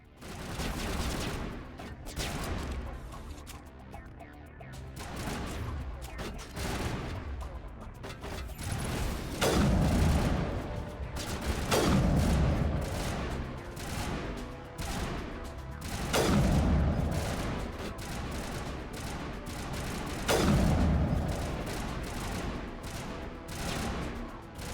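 Repeated sniper rifle shots in Mass Effect 1 ring out every few seconds as heavy booming reports over a dense, busy game soundscape.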